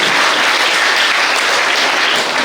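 An audience at a Dasara cultural stage programme in Puttur claps loudly, a dense, sustained round of applause filling the whole stretch without a break.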